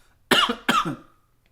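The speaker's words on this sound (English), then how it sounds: "Excuse my cough." Two sharp coughs in quick succession, close and fairly loud, with quiet before and after.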